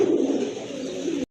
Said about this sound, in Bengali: আরেক জোড়া কবুতর, এটা একদম টকটকে লাল এক জোড়া রাজগোল্লা কবুতর